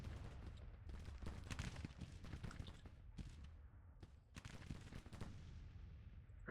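Massed musket volleys and scattered rifle shots crackle continuously in a Grand Tactician Civil War battle, dense repeated gunfire bursts over a steady low rumble throughout.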